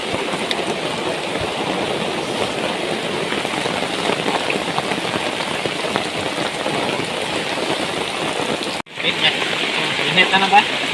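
Steady rain falls in a forest campsite, a dense, constant hiss of drops striking leaves and surfaces, loud and close, with a brief dropout near the end.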